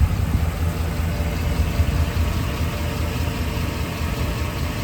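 A 2016 Chevy Express G2500 4x4 cargo van engine idles steadily with a low, even rumble throughout, no voices.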